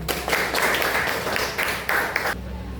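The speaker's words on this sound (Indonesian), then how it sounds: "Yes, tepuk tangan." Students in a high school classroom clap their hands in a short, ragged burst of a few uneven pulses lasting about two seconds, then it cuts off abruptly.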